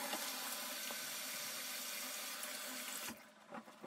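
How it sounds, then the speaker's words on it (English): Tap water runs steadily into a sink while hands are washed under it. The flow is a close, even rush that cuts off abruptly near the end, leaving a few soft splashes and drips. "First thing I do is wash my hands."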